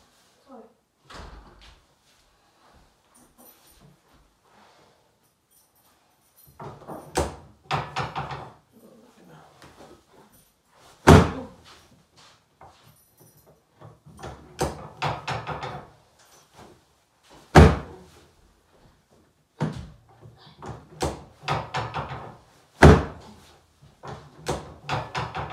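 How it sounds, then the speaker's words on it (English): Inside a chiropractic clinic, a door thuds shut among several sharp knocks and bumps, scattered between stretches of nearby talking. "Can you close the door"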